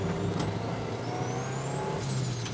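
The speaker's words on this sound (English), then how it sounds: "you guys listen to the short ratio box" A Honda D16 car with a short ratio gearbox accelerates hard in first gear on a private road, the engine's whine climbing in pitch and then dropping as the revs fall, steady and fairly close, no talking.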